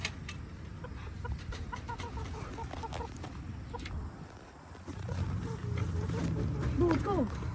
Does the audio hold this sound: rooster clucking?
yes